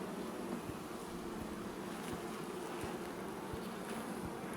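A honeybee colony buzzes inside its hive, a soft continuous drone of many insects heard up close and fairly quiet, with a few faint knocks and no talking.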